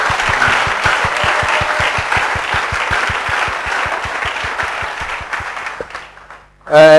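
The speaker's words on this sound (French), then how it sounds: "Acclamez pour lui." A church congregation applauds the pastor, a steady dense crowd clapping with regular low thumps that fades out near the end, followed by a short burst of voice.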